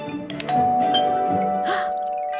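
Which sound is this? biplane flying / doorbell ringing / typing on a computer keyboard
doorbell ringing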